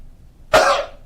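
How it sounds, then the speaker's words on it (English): A single forceful cough after a deep breath, close and loud, following a moment of quiet. "stronger cough"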